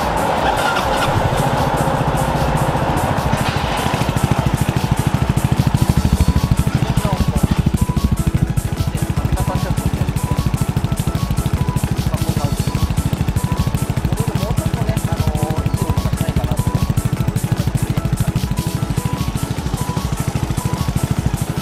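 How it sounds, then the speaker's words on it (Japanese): Suzuki Address V125S scooter (CF4MA) idling with an aftermarket muffler fitted with its stock baffle, a steady, close, loud engine drone lasting throughout with little change in level. "とりあえずじゃあね、エンジンをかけていきます"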